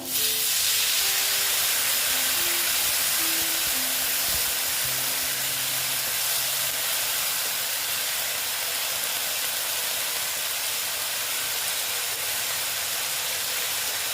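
Water poured into a hot pan of bitter gourd and pumpkin bursts into a loud, steady hiss of steam that fades only slightly over many seconds, close-up, with no voices.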